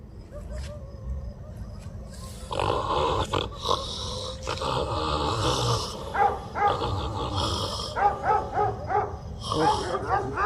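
Dogs barking and growling at night, with several rough, close barks in uneven bursts that grow busier toward the end. People talk over them throughout.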